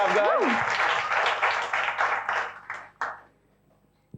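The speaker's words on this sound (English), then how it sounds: "Go ahead, we can clap some." Scattered audience clapping at a cyber resilience conference track opening, starting as a short burst and thinning into a few separate claps before falling silent, with a brief voice at the very start.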